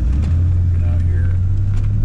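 A 1982 Corvette Collector Edition accelerates smoothly on a test drive, its low engine rumble steady and prominent throughout, with faint traces of a voice beneath.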